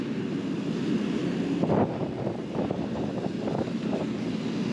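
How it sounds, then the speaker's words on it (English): Gusty wind on a rooftop buffets the microphone up close, a low rumbling roar that swells and fades in uneven surges with no voices. "it is windy up here"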